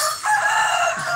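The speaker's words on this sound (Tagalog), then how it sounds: "Manok na yun." A rooster crows once, loud and close, a short harsh cock-a-doodle call with no talking, heard during a Toyota Vios engine overhaul.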